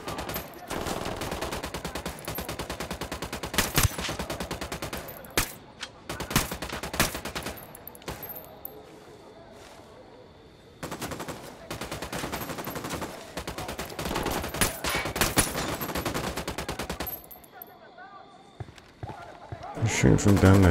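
Gunfire in Ghost Recon Wildlands comes in repeated bursts of rapid shots with short gaps between them, moderately loud, while players talk over the action.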